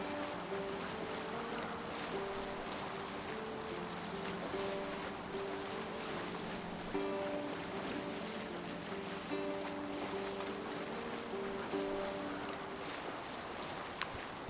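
Viking longship gliding over the sea in Assassin's Creed Valhalla: a steady wash of water and wind with creaking wooden tones and low musical drones underneath, constant and fairly quiet throughout.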